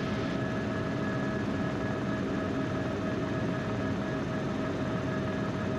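A training helicopter's engine and rotor hold a constant loud whine and thrum from inside the cabin during a flying lesson, steady and unbroken with no one talking.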